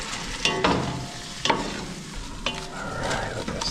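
Canned chipotles in adobo and a head of garlic are stirred in a pot in a cold, powerless home: a few distinct scraping strokes over a soft, steady sizzle, close up, no talking.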